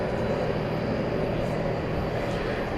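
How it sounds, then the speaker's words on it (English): An American Airlines Boeing 777-300ER at night at DFW Airport, its engines a steady, fairly distant broadband roar. "There you see American Flight 80. It's a 777-300ER going to London Heathrow, and it is making the big turn"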